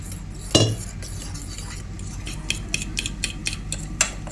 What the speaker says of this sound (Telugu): నీళ్ళు పోసుకొని కలుపుకోవాలి.